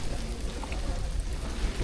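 Rain and hail fall steadily on a mountain trek in Himachal Pradesh, producing a dense, continuous patter and hiss close around the listener with no voices.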